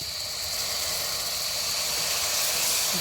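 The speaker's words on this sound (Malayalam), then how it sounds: "ഇനി നമുക്കിതിലേക്ക് സുർക്ക ഒഴിച്ചു കൊടുക്കാം" Steady, loud hissing sizzle as vinegar is poured into a hot pan of shatavari root pickle mixture, continuous and even throughout with no talk.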